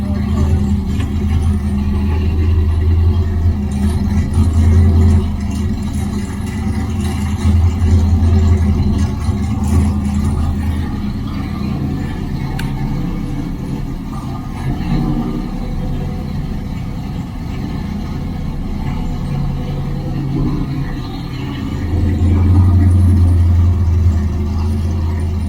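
A race car prepared for a charity race at Auburndale Speedway idles with a deep, steady engine rumble that swells slightly at times, running alone for the whole stretch.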